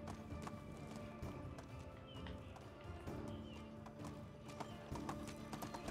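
Donkey hooves clip-clop steadily in Medieval Dynasty, a quiet run of rhythmic hoof clops over a low, busy game background with no talking.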